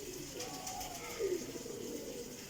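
Teddy pigeons, including a female, coo in a low murmuring rumble at close range, with a brief louder coo in the middle, under steady background noise at a pigeon keeper's loft.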